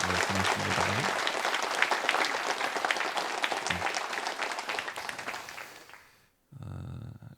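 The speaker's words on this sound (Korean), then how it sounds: "우리 새벽 이슬 같은 귀한 청년들 되라고 우리 격려 박수 한번 하시면 감사하겠습니다" Church congregation applauding together, a dense, sustained burst of clapping that fills the space for about six seconds before dying away, followed by a voice speaking.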